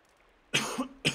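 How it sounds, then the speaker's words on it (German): Two short, dry coughs from one person, the first a longer hacking burst, the second a quick single cough a moment later, fairly close and moderately loud over a quiet background. "Entschuldigung fürs Husten."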